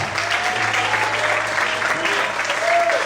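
A church congregation applauds steadily during a worship service, dense continuous clapping filling the space, with faint voices mixed in beneath.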